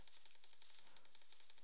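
Rapid, evenly spaced clicking of keys typed on a computer keyboard, a steady rhythmic patter, faint and close with no voices.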